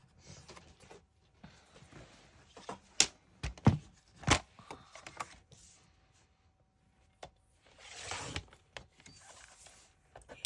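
Paper being trimmed for a scrapbook layout, several short sharp cutting snaps and slides spaced irregularly, close and fairly quiet with soft handling noises between them.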